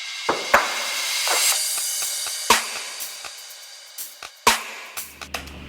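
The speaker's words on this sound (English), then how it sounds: "Some basic cymbals and hi-hats and all that." A sparse drum beat with sharp hits and splashy cymbal and hi-hat strikes, played alone at a moderate, uneven pace.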